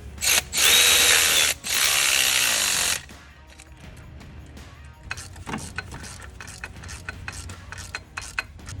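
Work on the turbocharger bolts of a 2011 Chevrolet Cruze: loud rasping bursts open the scene, then a ratchet clicks in quick, uneven runs up close as the bolts are snugged.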